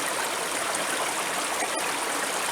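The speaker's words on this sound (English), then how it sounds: "An unbelievable waterfall." Steady roar of a waterfall in the Pacific Northwest, a dense, constant rush of falling water heard up close with no voices.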